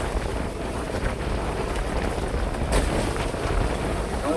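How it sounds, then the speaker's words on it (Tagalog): Strong wind on a river after a typhoon, a steady roaring buffet across the microphone, with a boat faintly beneath it and no talk. "Mabilis sumanod at malakas ang hangin."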